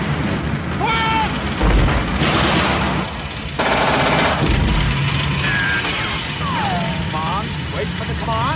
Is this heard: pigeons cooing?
no